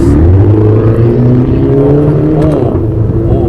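A 2016 Mini Cooper S Clubman (F54) in sport mode, fitted with a Borla exhaust, rumbles loudly and steadily close by as the engine revs, with a brief crackle of pops partway through.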